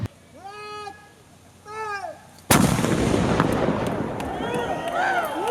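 A Southeast Gasser drag race car engine fires up at an outdoor event with a sudden loud blast and then a rough, roaring idle close by, after a few seconds of people talking.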